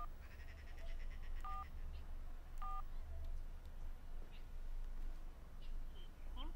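Two short keypad dialing tones beep on a telephone, faint and close together, over a steady low background hum with no talking.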